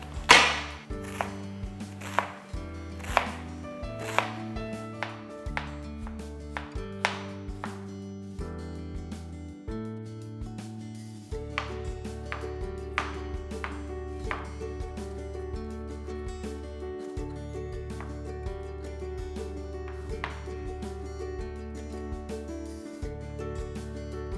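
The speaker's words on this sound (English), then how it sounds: "I'll start by dicing my onions, my garlic, and my green onion." Onions, garlic and green onion diced on a cutting board with a knife, with steady rapid chopping strikes close by, alone over soft background music.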